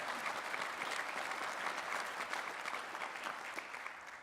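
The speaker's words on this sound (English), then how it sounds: "Give him one more round of applause." A conference audience at a trade association's business meeting gives a steady round of applause, many hands clapping in a continuous even wash, moderately distant and slowly tapering near the end, with no talk over it.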